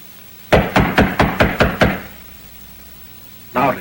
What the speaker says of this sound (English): I think I ought to knock louder.